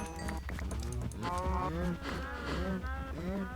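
Several overlapping cows in the Minecraft video game moo repeatedly in a continuous crowded chorus, their drawn-out calls layered over one another at steady loudness with no talking.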